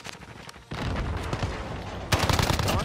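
Origin 12 shotgun fire in Modern Warfare, with rapid close blasts starting sharply partway through and a second, louder burst near the end amid dense game noise.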